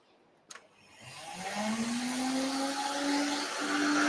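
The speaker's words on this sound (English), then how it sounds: "The vacuum's going. This is an old vacuum." An old variable-speed vacuum cleaner starts after a sharp click, its motor whine rising in pitch and loudness over a few seconds, then holding a steady, fairly close roar.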